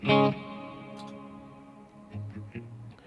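A guitar chord through a Quad Cortex Friedman Naked amp capture rings out and slowly decays in a wide, chorused reverb, followed by a few softer plucked notes.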